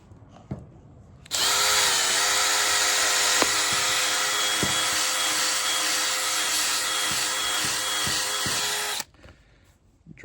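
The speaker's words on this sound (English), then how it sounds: "You're going to drill some holes, either on the side or on the front." A power drill bores holes into a mower deck tire, making a loud, steady high-pitched whir that starts abruptly, holds for about eight seconds and cuts off, with faint clicks and taps around it.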